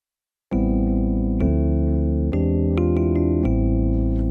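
Korg Pa5X electric piano set to a neo soul sound with effects switched off, a few dry sustained chords struck one after another, close and clear with no talking.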